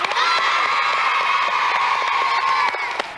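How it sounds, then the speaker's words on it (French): A French TV studio audience cheers and shouts loudly and continuously, with high excited voices, some sounding like children, layered over steady applause for the whole stretch. "je crois qu'on peut encore applaudir"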